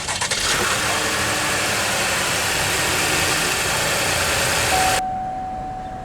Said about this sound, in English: let's go ahead and start the engine, and along with Smart Key, it does have push-button ignition